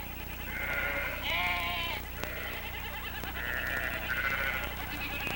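Sheep and goats bleat in a livestock setting, several drawn-out, wavering calls following one another over a steady background, with no talk.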